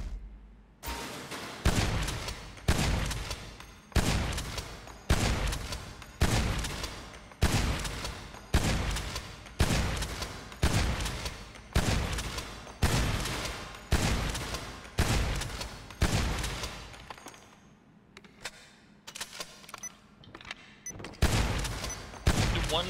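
Repeated KSG shotgun blasts from GTA V, about eighteen loud evenly spaced shots at a steady pace, each with a sharp attack and a decaying tail, then a brief quieter pause and two final shots.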